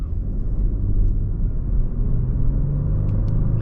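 Steady low rumble of a 2023 Genesis G80 3.5T sedan while driving, heard from inside the cabin as a continuous, even engine and road drone with no talking.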